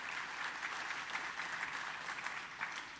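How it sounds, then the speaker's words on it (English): Steady applause from a film festival audience, dense and continuous clapping throughout, fairly soft and distant. "Let's clap for her."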